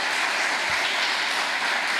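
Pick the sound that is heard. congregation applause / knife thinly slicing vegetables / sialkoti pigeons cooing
congregation applause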